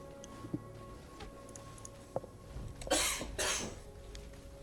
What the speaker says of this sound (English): Random coughing fit just coming on here in the middle of the show